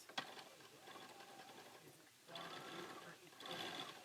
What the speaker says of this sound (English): I'm going to go stitch right on those lines.